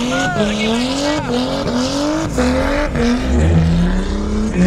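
Tires squeal in sweeping rising tones as cars drift at a motorsport festival, the Northern Festival of Speed 2025, with engines roaring and a close rumble building near the end; voices chatter faintly underneath.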